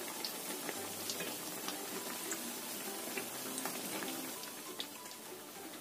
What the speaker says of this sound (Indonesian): Kita goreng sampai kuning keemasan.